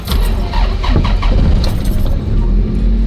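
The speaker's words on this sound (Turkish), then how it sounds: "Bu arabamız bozulup duruyor." A broken-down car's engine is cranked repeatedly, giving loud rough grinding bursts and squeals close by, with some voices mixed in.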